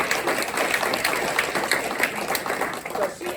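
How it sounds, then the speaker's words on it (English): An audience at an annual board of directors meeting claps in a brief, steady round of applause, a moderately loud, even patter of many hands. "I do want to have a few special people stand so you can give them a round of applause."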